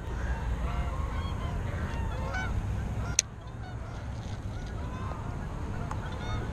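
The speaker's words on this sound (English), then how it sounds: "a few of the Canadian geese have shown up back here at the lake today" Canada geese honk intermittently across a park lake, scattered calls over steady outdoor background noise, with one sharp click midway.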